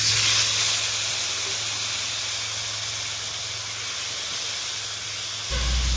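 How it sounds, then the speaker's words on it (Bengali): Pointed gourds coated in turmeric, salt and sugar fry in hot oil, giving off a steady, even hiss that runs unbroken through the whole stretch with no talking. "হলুদ লবণ চিনি মাখিয়ে রাখা পটলগুলো ভেজে নিচ্ছি।"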